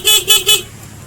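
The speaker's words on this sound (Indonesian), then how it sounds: "kedengaran klakson juga kencang sih" Three short, loud motorbike horn beeps in quick succession, close by, powered by a new battery, each a bright blaring tone lasting a fraction of a second.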